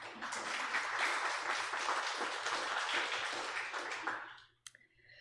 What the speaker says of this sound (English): So maybe a round of applause for Humanities Nebraska.